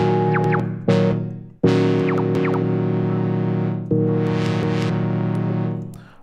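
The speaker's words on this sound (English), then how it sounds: "that's the filter envelope that I'm changing now" A distorted synthesizer holding sustained chords, its tone sweeping and shifting as the filter envelope changes, with sharp new attacks every few seconds.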